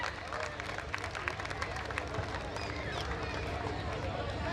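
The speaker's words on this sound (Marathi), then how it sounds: "एकदा जोरदार टाळ्या आविष्कारसाठी" Continuous crowd applause at an outdoor cricket prize distribution ceremony, dense clapping and crowd noise filling the clip at a steady level without pause.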